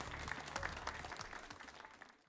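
Applause from an audience at a traditional Irish music concert, fairly quiet and distant, a steady patter that slowly fades out.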